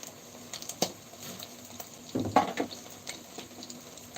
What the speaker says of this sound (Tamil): பட்டு பட்டுன்னு வெடிக்குது வேற இதில் இருக்க கொழுப்பு வந்து வெடிக்குது